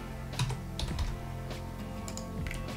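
Fingers type on a Mac computer keyboard in quick, irregular bursts of close, crisp key clicks over a quiet room, with no talking.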